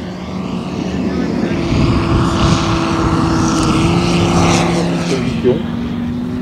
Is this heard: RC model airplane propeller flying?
yes